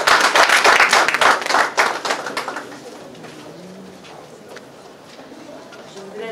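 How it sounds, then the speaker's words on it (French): Audience applause at the launch evening of an international secretarial trade fair in Cocody, a loud burst of many hands clapping that fades out after about two seconds, leaving quiet room tone with faint voices. "On va l'applaudir."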